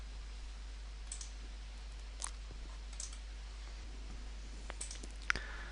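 Faint computer mouse clicks tick now and then against a quiet hum, a handful of isolated clicks spread unevenly, one slightly louder near the end.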